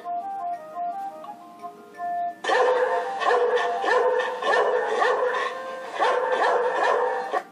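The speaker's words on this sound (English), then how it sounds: "D d dog. D d dog." Cartoonish dog barks from a children's animal-learning game come in a quick repeated run after a short melodic chime, loud and clear with no talking.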